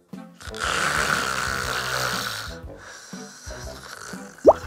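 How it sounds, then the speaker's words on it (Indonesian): A person asleep snores in two long, rasping, snorting breaths close by, followed by a short sharp squeak-like sound at the end. "Lo mulai ngorok."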